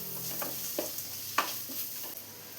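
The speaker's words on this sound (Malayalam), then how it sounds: "ഇത് റോസ് സ്മെല്ലൊന്ന് മാറി വരുന്നവരെ വഴറ്റിയെടുക്കാം." Crushed garlic and ginger sauté in a pan with a soft, quiet sizzle and several light stirring scrapes spaced out over a couple of seconds.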